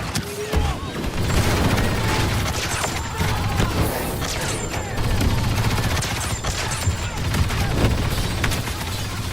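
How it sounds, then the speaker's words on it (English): Rocket fire in a Star Wars video game, a loud, sustained barrage of explosions and rapid gunfire with mechanical clatter and scattered bangs all the way through, with a voice speaking over parts of it. "Deploying rocket fire."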